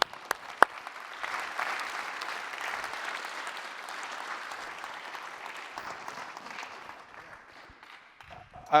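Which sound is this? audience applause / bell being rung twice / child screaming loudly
audience applause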